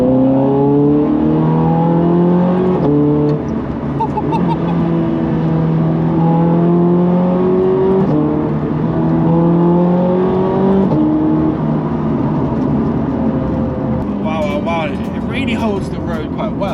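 A Ferrari 430 Scuderia engine revs up close with a loud, blaring tone, its pitch climbing and dropping through quick gear shifts over a steady, continuous roar.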